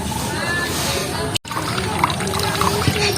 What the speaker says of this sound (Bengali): আস্তে আস্তে জল নিয়ে ফেলে দেবো